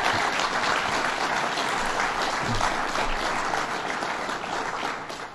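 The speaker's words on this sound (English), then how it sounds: "One more round of applause." Dense, steady applause from a crowd at a Citizen Preparedness Corps training event in Oneida, where Governor Cuomo speaks, holds loud and continuous throughout and eases slightly toward the end.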